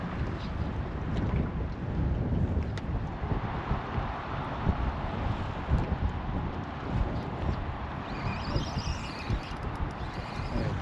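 Wind blows across a small fishing boat with an electric trolling motor on the Hunter River at Newcastle harbour, a loud, constant rushing buffet on the microphone with water and hull noise underneath and no talking.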